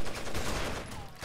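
Gunfire in the Rainbow Six: Vegas video game, a dense continuous burst of shots filling the whole moment at moderate loudness, with faint game voices underneath.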